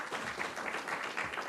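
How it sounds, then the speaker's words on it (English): Applause from an audience at a government ministry and technology company partnership launch, a steady, dense wash of clapping sustained for a short moment with no voices over it. "a warm round of applause"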